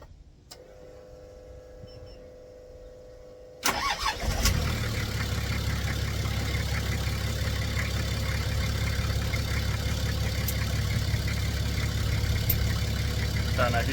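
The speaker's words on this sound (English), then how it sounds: "Just going to start the car up" After a few seconds of quiet with a faint click, a Nissan Patrol engine cranks and catches with a sharp burst, then settles into a steady, loud, rumbling idle close by that holds to the end.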